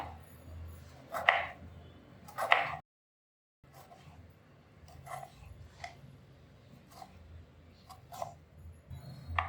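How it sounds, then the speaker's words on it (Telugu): A knife chops a tomato into small pieces on a cutting board in a home kitchen, with a few sharp, separate knocks spaced apart, fairly close and quiet, followed by a brief silence and softer scattered taps. "ఇలా చిన్న ముక్కలు ఒక టమాటా కట్ చేసుకోండి"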